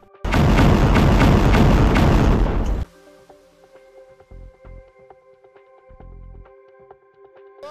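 Explosions aboard the Sounion crude oil tanker in the Red Sea: one loud, dense roaring blast lasting a couple of seconds, then a quiet stretch with faint tonal hum and a few dull thuds.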